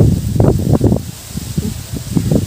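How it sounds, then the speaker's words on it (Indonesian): Strong outdoor wind buffets the microphone in loud, uneven low rumbling gusts throughout, with no speech. "Tak tahu lah dengar ke tak. Sebab angin kuat sangat."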